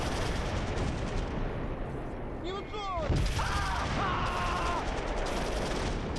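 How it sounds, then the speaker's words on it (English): Mortar fire and other gunfire in the WWII tactical war game Close Combat III, set in a battle at Kursk, makes a dense, continuous roar of battle. A voice speaks briefly partway through. "Open up, drop the mortars."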